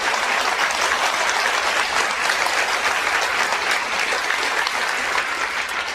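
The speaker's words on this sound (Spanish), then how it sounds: "denle un aplauso, por favor." An audience at a talk on the Church and the globalist agenda breaks into sustained, dense applause, a steady wash of clapping that stays even throughout.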